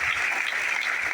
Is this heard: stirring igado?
no